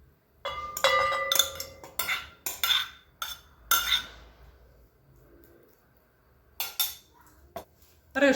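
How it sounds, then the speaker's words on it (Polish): Cooked rice moved into a bowl for a tuna and rice salad, with a run of clinks and scrapes from a spoon against the dish, separate knocks spaced by short pauses, then a quieter stretch before a few more clinks. "Ryż przerzucam do miski"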